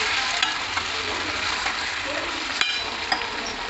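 Lemon pickle simmers in oil in a pot, giving a close, steady frying sizzle with faint bubbling and small ticks of stirring throughout.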